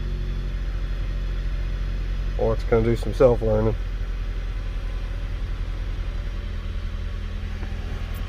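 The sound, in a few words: 2008 Jeep Compass 2.4L engine idling a little high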